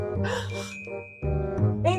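A bright two-tone notification bell chimes, followed by a lingering high ring, over a steady low background hum.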